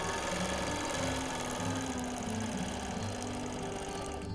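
A sewing machine runs continuously while stitching a quilt, a fast, even mechanical whirr and rattle, close and loud, with no talking.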